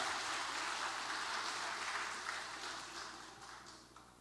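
A church congregation applauding the Zion choir during Sunday worship, a steady wash of many hands clapping that fades gradually over about four seconds, heard at a distance and fairly soft.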